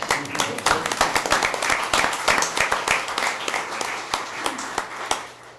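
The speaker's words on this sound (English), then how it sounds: "I think one more round of applause" Applause from the audience at a school district board meeting, a steady patter of many hands with a few sharper claps standing out, fairly close and lasting the whole stretch without talk.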